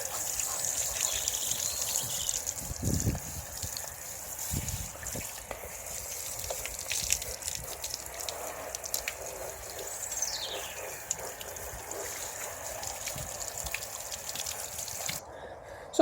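Cold water from a garden hose sprays over a car during a winter wash, a steady close hiss and patter of water on bodywork with occasional dripping and splashing throughout.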